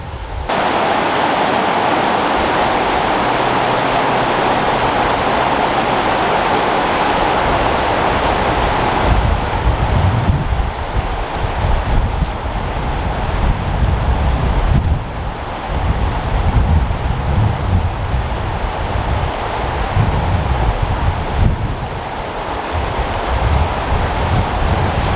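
A river in the Great Smoky Mountains rushes steadily for the whole stretch, a broad, dense wash of flowing water at close range with no voices.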